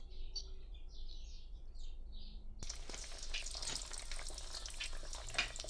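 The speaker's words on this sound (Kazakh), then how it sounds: "майымызды қыздырып, осылай пісіріп аламыз" Shelpek flatbread hits hot oil and bursts into a steady, close sizzle that runs on, after a quiet stretch where small birds chirp faintly in the background.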